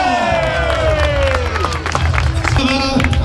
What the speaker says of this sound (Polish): Wielkie brawa Maciej Szewczyk z Koszalina!